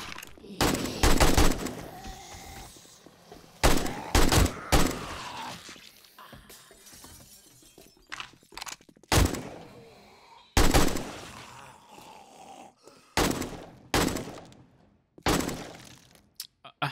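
AK rifle fire in the survival game 7 Days to Die comes in loud, sharp bursts of several shots with quiet gaps between them, mixed with thuds and breaking impacts.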